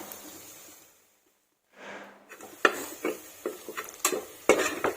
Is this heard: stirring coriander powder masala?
yes